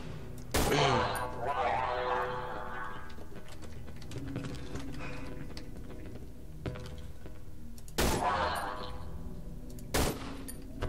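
Gunshots in the horror video game Cry of Fear: a few sharp, loud isolated shots spaced several seconds apart, with quieter game sounds and mechanical clicks between them.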